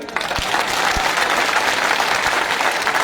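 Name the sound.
loud applause at a public rally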